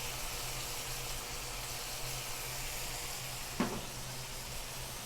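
A New England skate fillet pan-sears in a hot pan, giving a steady close hiss of sizzling throughout with one brief clatter near the end.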